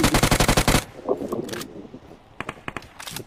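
Gunfire in PUBG on the Erangel map: a rapid automatic burst of about a dozen close shots up front, then scattered single and clustered shots more distant and fainter.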